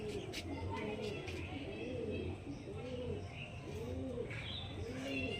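Andhra pigeons cooing in a repeated rhythmic pattern, soft rolling calls about once a second, with faint chirps in the background.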